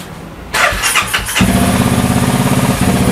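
A Honda Wave motorcycle fitted with a CBR300 engine cranks briefly, fires, and catches, then settles into a loud, close, rapidly pulsing idle.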